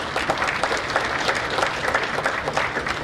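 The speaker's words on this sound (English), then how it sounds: "let's give the speakers a big round of applause" Dense, steady applause from a conference audience for the panel speakers at a plenary session, sustained and even throughout at moderate distance.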